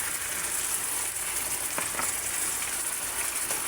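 Potatoes fry with corned beef in a pan, giving a continuous dense sizzle heard up close with a few faint stirring scrapes.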